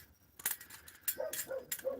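A dog barks several times in short bursts, fairly close but not loud, inside a converted school bus, with quiet background noise between the barks.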